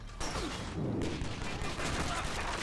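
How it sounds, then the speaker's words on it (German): Rapid, dense gunfire in the action video game Stranglehold, sustained bursts close and loud for the whole short stretch. "einfach nur cool in die Gegend schießen"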